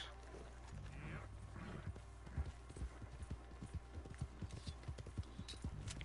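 Steady clip-clop of horse hooves trotting at a brisk, even rhythm in the video game Red Dead Redemption 2, close and fairly loud, over a low rumbling background.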